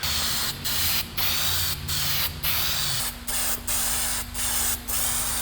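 Short hissing bursts of spray paint coat frame connectors for a Ford Fox Body, about eight close, even sprays in a steady rhythm over a low hum.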